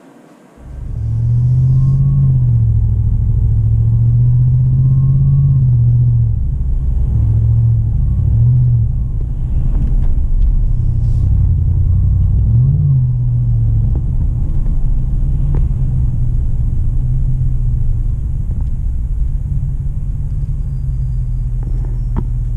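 A 2020 Chevy 2500 pickup with a 6.6 gas engine and MBRP exhaust rumbles loud and deep at close range, a constant low drone with brief swells in pitch as the engine revs.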